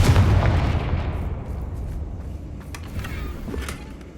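A Confringo fire spell explodes in the Hogwarts Legacy video game, a loud booming blast that rumbles and decays over a few seconds.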